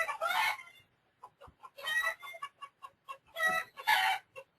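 Chickens on a farm cluck in short repeated bursts, with a few louder squawking calls standing out close to the microphone, and no talk.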